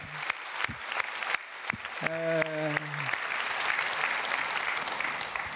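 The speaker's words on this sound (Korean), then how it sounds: "하나님께 큰 박수 합시다" A church congregation claps after a sermon on blessing. A few scattered claps grow into full, sustained applause, and a voice calls out briefly partway through.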